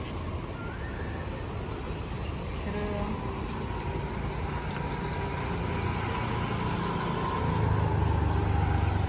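A vehicle driven by a learner named Anushka on her last day of driving practice gives off a steady, continuous engine and road rumble that grows slightly louder toward the end, with no talk.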